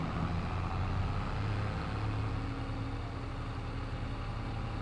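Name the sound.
tractor engine running loudly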